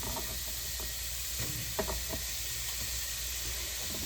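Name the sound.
food sizzling in a hot pot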